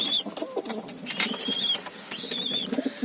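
Soft Adana pigeon coos murmur low and repeatedly amid a busy outdoor background with faint higher bird calls, no talking.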